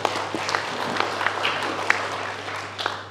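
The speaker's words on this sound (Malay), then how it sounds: "Boleh sekali lagi beri tepuk tangan yang mulia Bapak Ibu semuanya." An audience applauds at a seminar on durian pests and diseases, a steady wash of clapping from many hands throughout with a few sharper claps standing out over a low constant hum.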